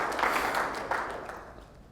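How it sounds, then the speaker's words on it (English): A crowd applauds at a financial progress event, a full burst of clapping that gradually fades over a couple of seconds, with no one talking. "I want to give you guys a round of applause"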